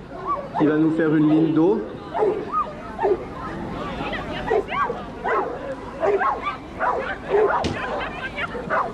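Dog barking and yipping in short repeated bursts with whimpers, heard outdoors at a canine water-rescue event while a crowd murmurs and people talk in the background.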